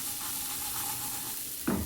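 Mustard seeds and spices sizzle in hot oil in a pan as tempering for a beans palya. The steady, quiet frying hiss runs throughout, and a louder stirring scrape comes near the end.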